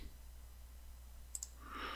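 Two quick, light clicks in close succession, like a computer mouse button, standing out faintly against a low steady background hum.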